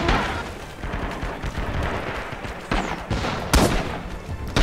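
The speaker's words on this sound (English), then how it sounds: "Knee mortars." Knee mortar fire in the video game Rising Storm, a loud, dense spread of blasts and gunfire with a few sharp, punchy explosions standing out over a constant battle din.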